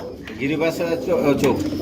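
Jacobin pigeons at a market stall, giving soft low cooing close by in a short burst, heard together with a voice.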